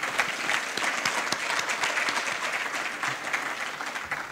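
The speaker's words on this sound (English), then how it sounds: "Let's give them a round of applause" An audience at a civic evening forum applauds its media co-sponsors with steady, dense clapping that holds at an even level throughout, with no voices rising above it.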